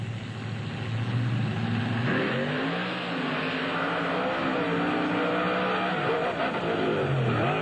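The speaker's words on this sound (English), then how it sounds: "you can hear him swinging the throttle when he went over the finish line" A monster truck engine at a drag race at a Springfield, Missouri monster truck event, loud and sustained, roaring and revving as the throttle swings up and down, with pitch sweeps and rises near the finish.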